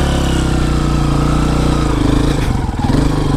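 Dirt bike engine running in first gear on an uphill track, a loud, steady throbbing motor close by with a brief dip and rise in its note near the end.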